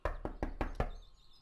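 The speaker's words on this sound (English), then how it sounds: "Just as I finished, someone started knocking at the door" Five sharp knocks on a door in the Everlasting Summer game, evenly spaced and loud, then a short fading tail.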